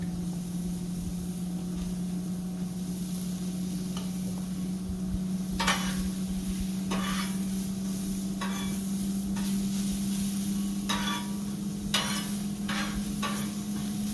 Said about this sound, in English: To throw the onions on. Get those start to grill up.